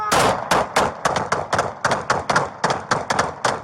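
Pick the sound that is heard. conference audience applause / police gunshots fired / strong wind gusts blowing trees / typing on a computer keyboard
police gunshots fired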